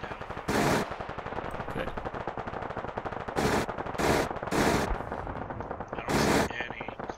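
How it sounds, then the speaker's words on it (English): Arma 3 minigun firing in five loud, sustained bursts of about a quarter to half a second each, spread across the scene over continuous background battle noise, with a short spoken word in between. "The minigun's hitting down."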